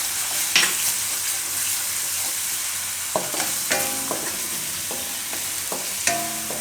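Asafoetida dropped into hot oil for Gujarati dahi chhole gives a steady low sizzle throughout, with a few sharp clinks and scraping stirs of a spoon against the pan.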